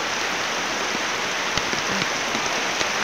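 Heavy rain pours down in darkness, a loud dense roaring hiss of water with a few brief knocks and splashes standing out, steady and close, no voices.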